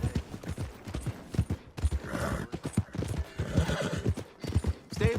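A horse in Red Dead Redemption 2 clip-clopping with quick hoof strikes and letting out whinnies, close and loud, with uneven galloping rhythm through the clip.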